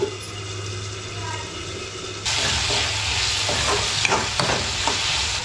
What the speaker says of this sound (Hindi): कुमड़ा 3/4 पक गया है, अब मैं टमाटर डाल देती हूँ।